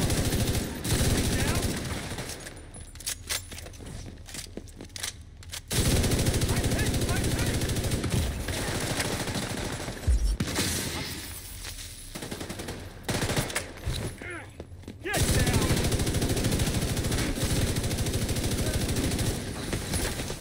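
Sustained machine gun fire in the video game The Division 2: long, loud, dense bursts separated by shorter gaps, with scattered sharper shots and talk in the quieter middle stretch.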